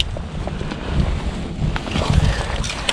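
Cold wind gusts across the Angara river, buffeting the microphone with a steady low rumble that swells and eases over a few seconds.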